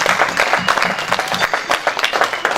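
A church congregation claps and cheers in a sustained burst of dense, loud applause during a French-language worship service, with scattered voices calling out over the steady clapping.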